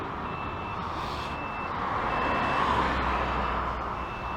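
A truck backing into a corner sounds steady, evenly spaced reversing beeps over a loud engine rumble that swells slightly as it moves on a city street.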